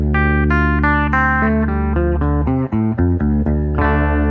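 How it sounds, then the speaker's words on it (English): A guitar in drop D tuning plays a dark, descending minor pentatonic run of single notes over a low sustained drone string, loud and close, with no voices. "is the minor pentatonic, which sounds like this"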